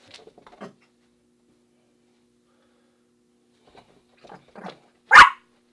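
A single loud dog bark bursts out near the end, preceded by a few faint scattered sounds and long quiet stretches, close to the microphone indoors.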